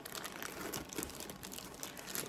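Plastic packaging around a Quwerkywriter typewriter-style keyboard crinkles and crackles as it is handled, a steady close run of soft rustles with small sharper crunches, no talking.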